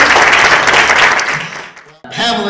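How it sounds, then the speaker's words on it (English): An audience applauds the nominees at the 2024 Angelwood Pictures Angel Awards ceremony, with loud sustained clapping that fades out, then cuts to a voice speaking. "Give the nominees a hand."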